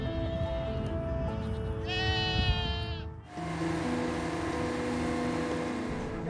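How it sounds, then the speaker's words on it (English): A goat grazing grass under power lines gives a single loud, quavering bleat nearby, over steady outdoor background noise and a low engine-like drone. "using goats to trim the grass and remove some of the fuel from underneath our power lines"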